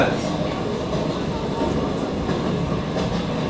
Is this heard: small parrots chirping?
no